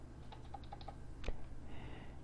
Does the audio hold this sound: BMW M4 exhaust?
no